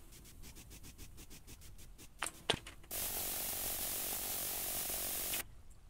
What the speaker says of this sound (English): Spray that shit down, bro.